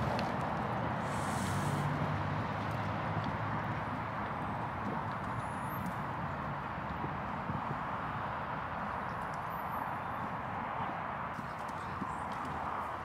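A horse being ridden at a competition day gives steady, rhythmic hoof clip-clops throughout, fairly faint over a broad ambient background with no clear talk.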